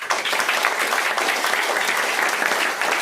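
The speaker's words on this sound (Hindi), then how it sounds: "जोरदार तालियां" Enthusiastic applause fills a hall during a product training program in Raghopur, Supaul, Bihar, with many hands clapping quickly and steadily at close range for a few seconds.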